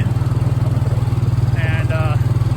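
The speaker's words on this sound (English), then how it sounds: "tractor up to the granddaddy's wagon" A farm tractor idles at close range with a steady low throb, and a couple of brief high-pitched squeaks cut in near the end.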